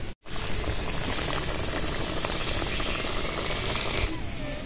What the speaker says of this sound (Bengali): গজাগুলো এইভাবে ভেজে নেব